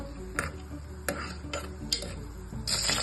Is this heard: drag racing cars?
no